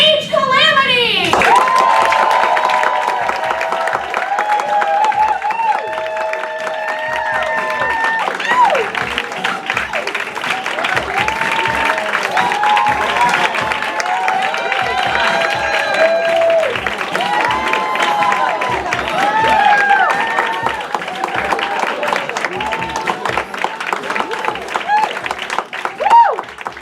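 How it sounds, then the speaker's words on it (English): A lively crowd at an improv class show gives long, rapturous applause, dense clapping mixed with cheers, whoops and excited shouting that carries on steadily throughout. "please join me in sounding like a rapturous applause for my 101 class"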